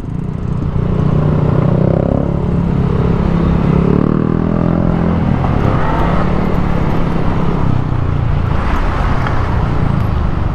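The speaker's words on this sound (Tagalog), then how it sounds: "Bumper to bumper gyud ang traffic diri mga lods basta buntag." Bumper-to-bumper morning traffic in Bulacao, heard as a dense, continuous roar of car and motorcycle engines and road noise up close, steady throughout with no speech.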